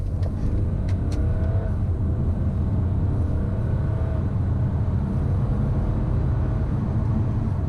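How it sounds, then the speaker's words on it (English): A 2018 BMW 430d coupe with a 258-horsepower diesel engine accelerates hard from 30 to 70, a loud steady engine rumble heard from inside the cabin that builds continuously with gear changes early on, and no talking. "Let's see what 258 horsepower and 560 newton meters of torque can do, and do the 30 to 70 sprint."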